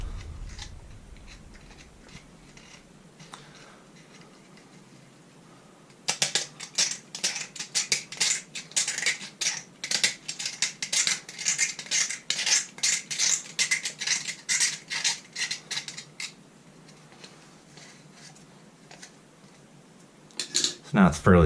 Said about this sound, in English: The easiest way to do that is just kind of go around and scrape it with a knife.